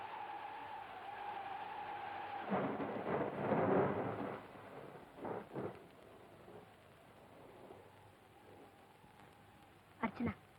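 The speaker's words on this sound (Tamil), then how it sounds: "வெளியே காத்து அதிகமா இருக்கு, மழையும் பெய்யுது" A rainstorm with strong wind in a Tamil film scene: a constant wash of rain surges into heavier rushing bursts, followed by a few sharp cracks near the end.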